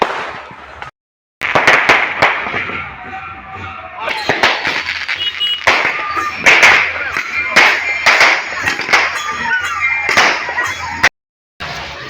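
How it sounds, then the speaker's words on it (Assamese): Firecrackers bursting near a temple gathering, a long run of loud sharp bangs in quick irregular succession, close and dense, with brief gaps of silence and some voices underneath. "এই বোমা মাৰি আছে পুৰা থাম থামকৈ"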